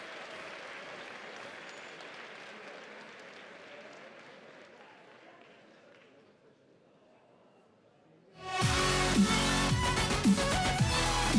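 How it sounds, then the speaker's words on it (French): Applause and crowd noise erupt for a World of Warcraft death knight cosplayer at a cosplay contest, a dense, loud wash of clapping that bursts in suddenly after quieter murmuring and carries on steadily to the end. "on l'applaudit"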